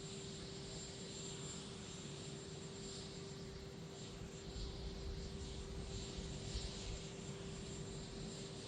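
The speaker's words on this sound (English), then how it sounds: "President George W. Bush coming out of the helicopter there." A presidential helicopter on an airfield tarmac gives a steady, fairly faint engine roar with a constant tonal whine, swelling slightly toward the end, with no talk.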